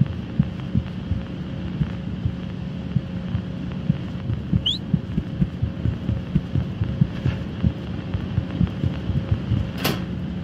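A repeating heartbeat in the horror video game Apeirophobia, low thuds pulsing steadily through the whole stretch over a constant hum, with a brief whistle-like chirp partway through.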